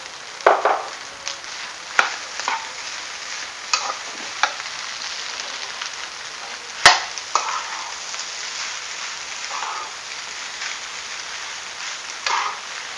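Nasi goreng being stirred in a frying pan, a steady sizzle with repeated scraping strokes of the spatula against the pan, close and moderately loud, no voices.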